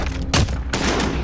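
In a first-person shooter, a sniper rifle fires two sharp, loud shots roughly a third of a second apart, each cracking hard and trailing off briefly, with no talking.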